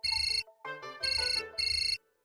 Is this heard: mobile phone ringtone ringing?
yes